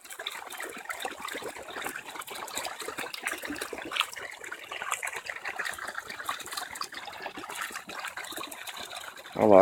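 Rushing floodwater runoff after record heavy rain pours off the roadside like a waterfall, making a continuous splashing, gurgling rush at moderate distance that swells slightly near the end.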